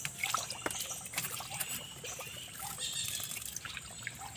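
Water is poured into a water pump to prime it before start-up, a continuous splashing trickle that stays close and fairly loud for a few seconds with no one talking.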